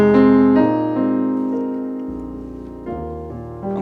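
Sustained piano-like chords move through a 2-5-1 progression that closes out an arrangement of a hymn, three chord changes ringing loud and alone with a slow decay between strikes.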